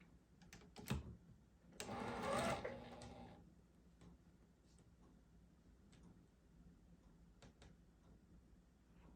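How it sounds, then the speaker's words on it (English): A sewing machine stitches quilt block pieces for an Urban Cabin quilt, giving a short loud mechanical burst of stitching with a few ticks before it, then quiet handling and light clicks. "move this piece out of the way and sew this one along the bottom."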